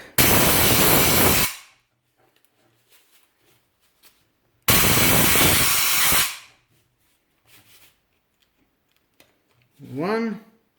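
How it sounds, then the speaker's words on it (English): A Parkside PDSP 1000 B2 air sandblaster gun fed by a compressor fires two loud, roaring blasts of air, each lasting over a second, separated by quiet gaps with small clicks and a brief sound at the end. "Okay, we have already connected to the air compressor. Here it is, and let's start it."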